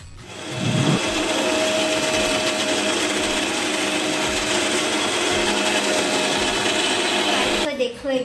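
A kitchen mixer grinder blends oranges for juice, starting after a moment and running as a loud, steady, grinding whir almost to the end before cutting off.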